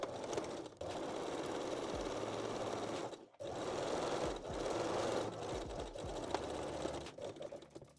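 A sewing machine runs a straight stitch along a bikini seam, about a centimetre from the edge, in two long steady runs broken by a short pause, with a low mechanical hum and a rapid needle rhythm.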